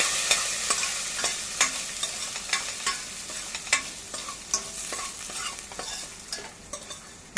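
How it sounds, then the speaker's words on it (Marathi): Rice roasting in ghee over a low gas flame, stirred continuously so a bright hiss runs under a quick irregular series of scraping clicks from the spoon against the pan, close up and steady without any voices. "हे तांदूळ आहेत हे मंद गॅसवर थोडे परतून घेऊया"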